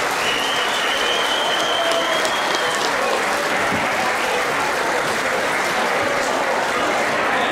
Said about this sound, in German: Mädels, Applaus für die Bund, für die Ehrendamen.